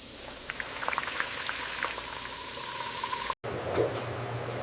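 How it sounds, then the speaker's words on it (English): Potato chip slices frying in hot oil in a chip factory, a continuous crackling sizzle with scattered pops, steady and moderately loud, with a brief cut and a slightly different hiss afterward. "Now comes the most critical stage, frying."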